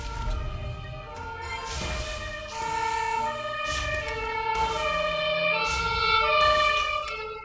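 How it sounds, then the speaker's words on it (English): A wailing alarm siren in the video game Trine, repeating tones that rise and fall steadily over several seconds, loud and alone with no talk. "I don't know what kind of alarm that is, but it's definitely not the police and it's definitely not an ambulance"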